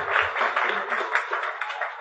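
A church congregation claps for a woman, a short burst of quick, echoing claps heard alone in a reverberant hall.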